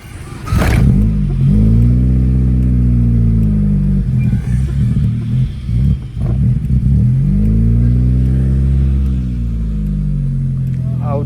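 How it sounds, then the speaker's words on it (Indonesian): A Honda Grand Civic engine warming up, revved repeatedly in long swells that rise and fall, loud and close with a steady idle between pulls, plus a few brief knocks. "panasin mobil Grand Civic. Gasnya biasa dikocok dulu."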